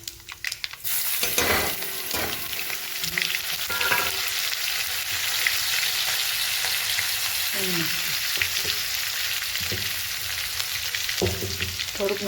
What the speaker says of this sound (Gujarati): હવે આપણે વઘાર મૂકી દીધો છે.